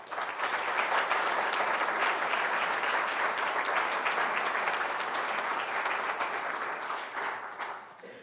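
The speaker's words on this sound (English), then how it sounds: "Please show our appreciation to everyone who has made this event possible with a round of applause" An audience at a public election forum gives a sustained round of applause, dense clapping that holds steady for several seconds before thinning and fading near the end.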